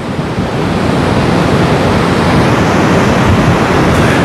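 Storm surf breaks on the beach at Dzhemete, Anapa, on the Black Sea. It makes a loud, continuous roar of churning waves mixed with gusty wind buffeting the microphone.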